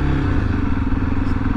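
A Honda XRE300 motorcycle engine runs steadily close by, with a continuous low rumble and slight clatter from the bike on a ride near Pedra do Letreiro, Primavera-PE.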